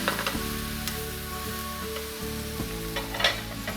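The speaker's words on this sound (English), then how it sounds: "you can turn your fire up all the way and just finish the wilting process" Greens sizzle and wilt in a pan over a fully turned-up flame, a steady close crackle and hiss with brief stirring scrapes and no talking.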